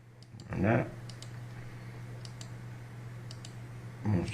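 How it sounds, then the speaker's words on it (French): A computer mouse clicked near the microphone: two distinct bursts of sharp clicks, one early and one near the end, with fainter ticks between, over a steady low electrical hum. "c'est quelques clics de souris"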